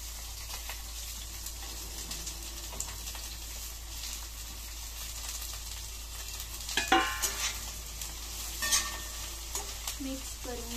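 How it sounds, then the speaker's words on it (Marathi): Carrots and onion sizzle and fry in a pan while being stirred for Schezwan fried rice, a steady close hiss with scraping stir strokes growing louder toward the end; no one speaks. "इकडं गाजर आणि कांदा आहे, त्याला मी टाकून घेते."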